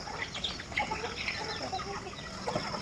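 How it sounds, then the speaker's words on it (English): Chickens and ducks being fed at evening in a natural garden make a busy, continuous chorus of scattered clucks and soft calls at moderate distance, with no talking. "He's feeding the chicken ducks."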